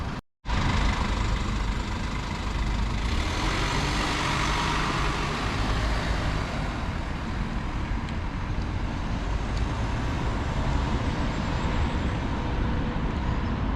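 A minibus pulling out of Staines bus station, its engine running steadily close by amid a dense wash of road and traffic noise that holds at even loudness throughout.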